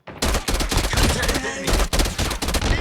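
TEC-9 firing in burst mode in a first-person shooter video game, loud close bursts of rapid shots separated by short gaps, repeating several times.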